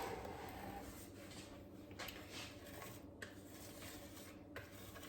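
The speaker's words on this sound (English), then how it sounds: "I'm just going to scrape the sides of the bowl with my spatula." A rubber spatula scrapes around the sides of a mixing bowl of banana bread batter, a soft, quiet rubbing and scraping with light strokes that continue steadily with no talk.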